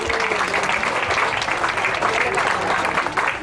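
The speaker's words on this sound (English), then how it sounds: "I'd like you all to give yourselves a round of applause." A seated audience at a mountain bike race gathering applauds, giving steady, dense clapping that fills the room for a few seconds while a voice carries over it.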